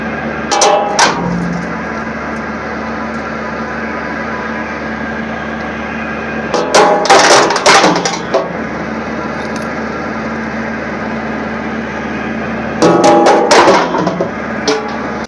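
Metal replacement body-part implants rattle and clatter through a hammer mill running with no screen, a steady loud grinding hum broken by bursts of sharp metallic clanks near the start, middle and end.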